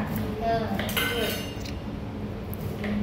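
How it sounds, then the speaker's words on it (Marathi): Dishes and pots being put away in a home kitchen bring scattered clinks and metallic clatter of utensils and vessels, faint speech murmuring beneath. "बाई लावतात भांडी"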